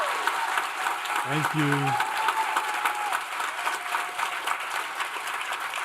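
An audience applauds to welcome two speakers. The clapping is dense and sustained and fills the whole stretch, and a brief voice speaks over it early on.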